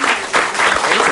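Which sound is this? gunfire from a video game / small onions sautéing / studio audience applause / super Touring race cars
studio audience applause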